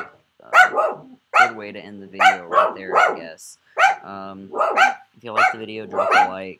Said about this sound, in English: That's my dog, by the way.